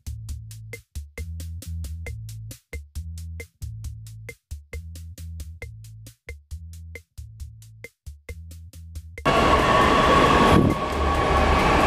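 A Jakarta LRT light rail train runs at a station with rhythmic clacking and low rumbling, then a loud hiss and roar of brakes or doors swell near the end; no voices.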